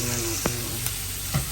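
Onion and garlic sautéing in oil in a pan for chicken bones with mung beans, a short steady sizzle with a couple of faint stirring taps, close up.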